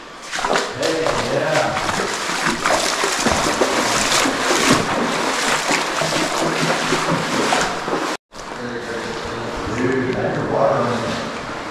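Fast-flowing stream rushing through a river cave, a loud continuous roar of water that stays steady, with a brief dropout, while voices talk over it.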